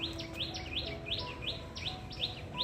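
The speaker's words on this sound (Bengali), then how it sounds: "কি সুন্দর ডাকছে সব একদম গাছের ডালে ডালে বসে বেল গাছের ডালে দারুণ কিচির মিচির কিচির মিচির করছে" Birds chirp repeatedly in quick, rhythmic bursts in the branches of a bael tree, fairly close by, over a faint steady background hum with no talking.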